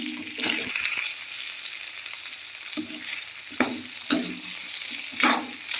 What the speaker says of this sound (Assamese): এতিয়া আমি আকৌ অকণমান সময় ভাজি লওঁ আদা নহৰু গোন্ধটো যোৱালৈকে